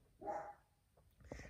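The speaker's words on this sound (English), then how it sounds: "And that's Sammy barking in the background" A dog barks a couple of short, muffled times in the background under Williamsburg Bridge, faint and somewhat distant.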